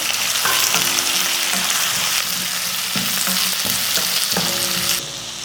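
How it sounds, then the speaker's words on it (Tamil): Onion and tomato sautéing in a pan for an easy breakfast tiffin dish, a steady loud sizzle throughout with intermittent stirring scrapes and clatters, cutting to quieter at the very end; no talking. "வெங்காயம் தக்காளி நல்லா வதங்கியாச்சு"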